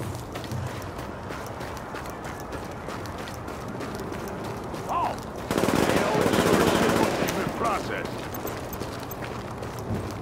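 Bursts of gunfire from Tom Clancy's The Division, with a dense, loud volley midway that follows sparser, quieter shots, all over a constant game ambience.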